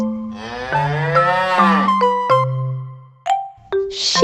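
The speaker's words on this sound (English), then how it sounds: "Today we will learn farm animals. Cow," A cow gives one long, loud moo over a backing of bright, stepped musical tones in a children's farm-animal learning song.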